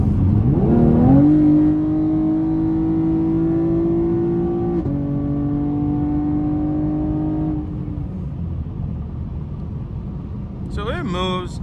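A Camaro revs and accelerates from close range, the engine note climbing, then holding steady and dropping as it shifts and moves off, with a brief voice near the end.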